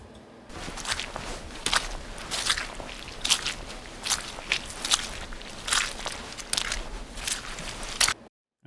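Sound-design footsteps of two people walking together, a steady run of crisp, crunchy steps close up, alone with no talk, stopping abruptly near the end.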